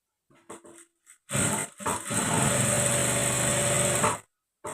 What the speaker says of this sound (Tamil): இதை மடித்து விட்டு ஒரு தையல் போட்டுக்கலாம்